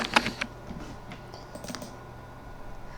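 Typing on a computer keyboard, a short cluster of close, crisp key clicks at the start, then sparse lighter taps over a quiet background.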